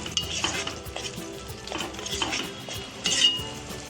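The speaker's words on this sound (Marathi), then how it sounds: "आता आपण हे सर्व व्यवस्थित मिक्स करून घेऊया." Egg curry masala being stirred in a frying pan, with a steady sizzle under repeated scraping and clinks of a spoon against the metal, close and fairly loud, no voices.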